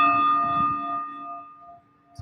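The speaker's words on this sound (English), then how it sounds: "Let the sound of the bell, the vibration of the bell, allow us to feel more deeply inside." A meditation bell is struck once and rings out with a clear, sustained metallic tone that slowly decays toward silence.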